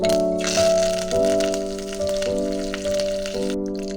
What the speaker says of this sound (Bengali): এখন এর মধ্যে কিছুটা কারিয়া পাতা দিয়ে নিচ্ছি